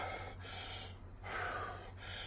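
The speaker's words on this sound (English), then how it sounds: "excuse heavy breathing" Heavy breathing from a person working on a rotted house roof, a few loud close gasping inhales and exhales in an uneven rhythm over a low steady background hum, with no talking.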